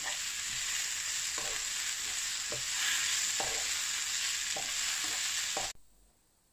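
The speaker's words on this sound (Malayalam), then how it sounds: "എന്നിട്ട് നല്ലോണം ഒന്ന് വാട്ടിയെടുക്കുക" Onion and tomato sauté in a pan, a loud continuous sizzle broken by regular scraping stirs roughly every second, with no talk, before the sound cuts off abruptly near the end.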